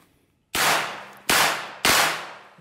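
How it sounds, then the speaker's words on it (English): Three loud, closely spaced gunshots from a bump-fired gun, each sharp crack trailing off in a ringing echo, with a short quiet gap before the first. "He just bump fired it."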